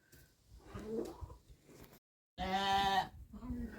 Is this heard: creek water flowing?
no